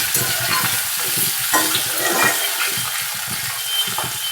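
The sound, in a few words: sliced onions frying in a pan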